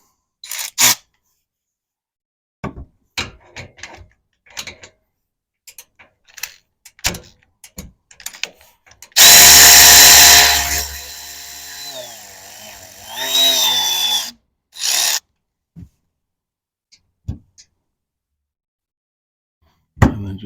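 A power tool with a 12 mm socket whirs loudly for about five seconds while driving a bolt during an APEX recovery point installation, followed by a shorter burst, with scattered clicks and handling knocks before and after.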